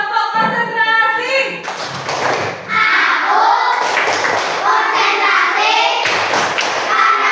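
A class of children does a rhythmic clapping routine, bursts of hand claps and thumps landing in a steady pattern while young voices chant along in unison.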